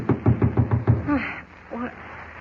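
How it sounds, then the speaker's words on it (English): Frantic knocking on a bunkhouse door in an old radio drama, six quick heavy raps in a rapid burst, followed by a man calling out in response. "is awakened by a frantic knocking on the door"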